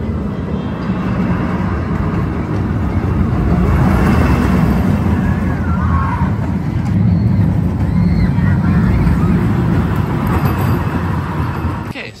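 Corkscrew roller coaster at an Ohio amusement park, a steady loud rumble and roar of the coaster train running on its track for the whole stretch, with faint crowd noise beneath and no clear talk.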